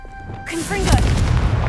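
Confringo blasting spell from Hogwarts Legacy, a sharp whooshing cast that bursts into a loud, deep, rumbling explosion.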